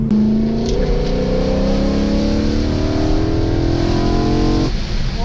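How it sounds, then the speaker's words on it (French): A BMW M3 E92 with a naturally aspirated engine revs hard in second gear, its loud close-up howl climbing steadily in pitch for several seconds before cutting off abruptly near the end. "Et j'étais qu'à 6500, j'avais encore 2500 presque tours par minute pour profiter de la sonorité."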